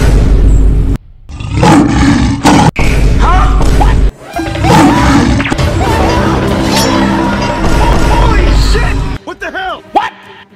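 A monster lion roars in an animal battle video game, loud and sustained, amid heavy crashes, thuds and smashing impacts with a busy, chaotic game soundtrack.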